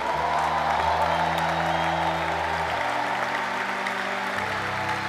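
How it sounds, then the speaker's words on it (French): A church congregation applauds and acclaims the Lord, a dense continuous wash of clapping and cheering mixed with sustained organ or keyboard chords underneath. "Est-ce qu'on peut s'élever en acclamant le Seigneur?"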